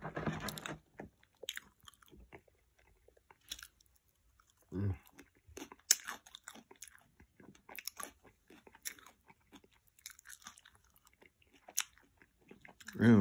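Close, moist chewing and crunching of a double cheeseburger and fries, with irregular bites and mouth sounds scattered across a quiet background and a few soft murmurs.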